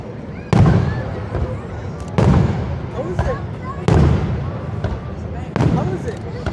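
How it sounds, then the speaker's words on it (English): Fireworks bursting near Niagara Falls at night, four loud, evenly spaced booms, each trailing off into crackle and rumble, with voices murmuring in the background. "Once I fire out the fireworks, I'll have to snap some shots and check the focus"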